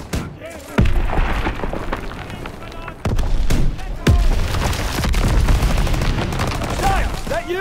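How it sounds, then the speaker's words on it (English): Call of Duty: WWII battlefield gunfire, a loud continuous fusillade of rifle and machine-gun shots with heavy booms and explosions, dense and close, with voices shouting over it. "Gunfire! We must be near our guys."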